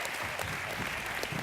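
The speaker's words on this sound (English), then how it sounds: "Give her a hand of applause." Brief, even applause from an audience at a gala show, a faint steady wash of clapping heard from a distance.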